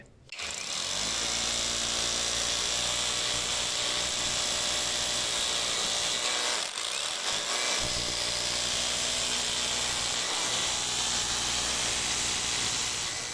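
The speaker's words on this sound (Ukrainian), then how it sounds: "Ну, подивимося, як він сверлить." A WOSAI cordless rotary hammer drills into overfired burnt brick, a loud continuous hammering whine that runs steadily close up, with a brief dip partway through before resuming.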